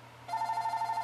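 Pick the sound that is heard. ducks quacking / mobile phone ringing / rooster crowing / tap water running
mobile phone ringing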